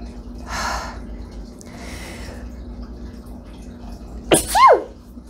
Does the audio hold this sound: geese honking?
no